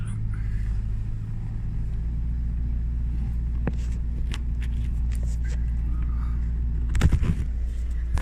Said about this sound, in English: Car still starts.